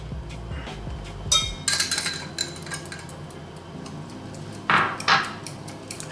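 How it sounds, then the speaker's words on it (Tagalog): Spoon clinking against a bowl while stirring lumpia filling mixture with added cornstarch, a few scattered scrapes and sharp clinks, close and fairly quiet, no talk. "Haluin lang natin siya."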